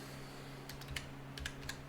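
A few scattered keystrokes on a computer keyboard, light clicks spaced irregularly over a steady low electrical hum from a GPU mining rig setup, with no talking.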